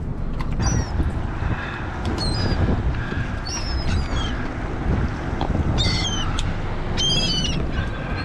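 Birds call in short, high chirps around fishing bait on a Florida jetty, several brief calls scattered over steady wind and water noise, fairly close but not loud.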